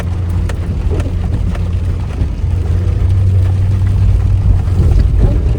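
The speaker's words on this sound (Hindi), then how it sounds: "इंजन की आवाज कम हो रही है" A Maruti Swift car engine hums steadily with a low, rumbling drone throughout, close and continuous with no talking, on a rough mountain road in the Spiti valley.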